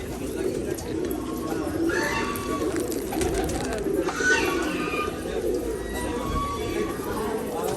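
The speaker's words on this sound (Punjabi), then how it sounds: "ਗੁਰਦੁਆਰਾ ਸਾਹਿਬ ਕਬੂਤਰ ਵੀ ਨੇ ਜੀ" Pigeons at a gurdwara coo softly and repeatedly against a steady background murmur, with occasional voices in the distance.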